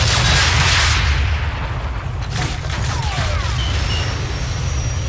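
In a Call of Duty 4 battle, a Stinger missile launches at a helicopter with a heavy roaring whoosh and deep booming rumble. Dense combat noise and a faint high whine follow.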